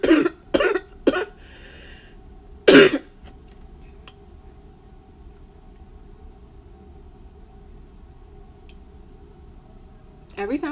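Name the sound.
cough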